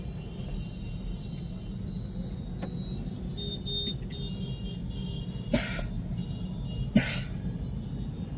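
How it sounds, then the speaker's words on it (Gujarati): Steady low rumble of road traffic in Surat city, with two brief sharp bursts standing out near the middle of a constant background wash; no talking. "જો આ સુરતનું ટ્રાફિક."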